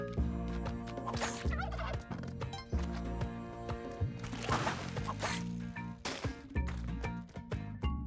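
Turkeys gobble repeatedly in the video game Spelunky 2, bursts of rapid warbling calls set over looping game music and clattering effects, with no talk.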